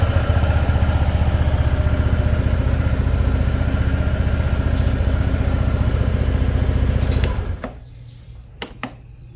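A 2025 Honda ADV 160 scooter's 157cc liquid-cooled, four-valve, four-stroke engine idles close by with a steady, even throb for about seven seconds, then cuts off abruptly, leaving near quiet with a couple of faint clicks.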